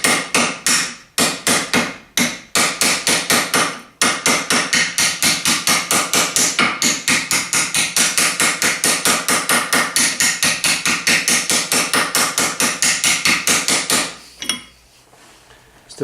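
Rapid, steady hammer blows ring against a steel lathe spindle, dozens of sharp strikes in quick succession with a brief pause early on, then stopping abruptly.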